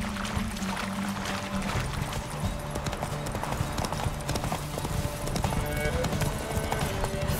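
Roach, a horse in The Witcher 3 video game, gallops in a steady, rapid clip-clop of hooves over a constant bed of game ambience, close and continuous.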